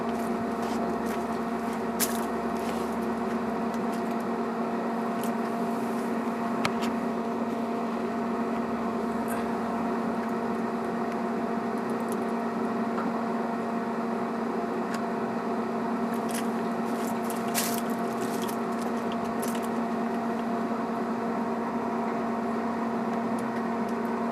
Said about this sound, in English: let the pellets continue to go into the fire pot until they come to full flame